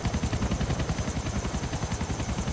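A helicopter in the video game GTA IV gives a fast, rhythmic rotor chop, loud and close, beating steadily for a couple of seconds with no other sound over it.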